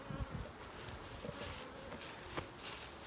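Honeybees at an apiary hum in a steady, dense buzz around the hives, faint and continuous, with a few soft bumps and rustles mixed in and no talking.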